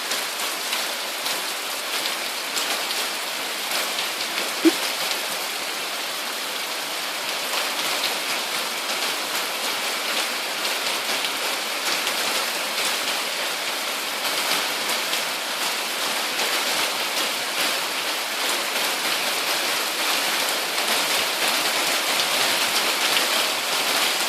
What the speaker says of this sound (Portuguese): Chuva aqui na chácara.